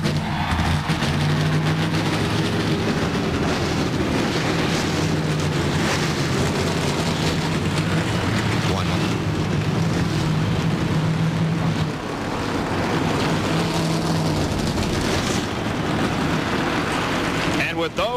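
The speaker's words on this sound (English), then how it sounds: "42 cars fire to life." A roaring wall of 42 stock car engines firing up together at Martinsville for the 1997 Goody's 500, loud and continuous, with the crowd-like wash of noise swelling slightly partway through.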